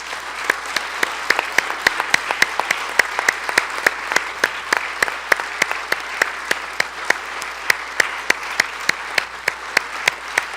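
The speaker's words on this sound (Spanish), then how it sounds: "Dale un aplauso al Señor." A church congregation at a Spanish-language service claps steadily for about ten seconds, loud, dense applause with sharp individual claps cutting through the wash of hands, and no speech over it.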